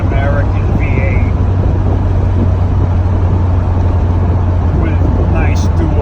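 An American V8 with dual exhaust and MagnaFlow mufflers drones with a loud, constant low rumble from start to finish, steady in pitch and strength.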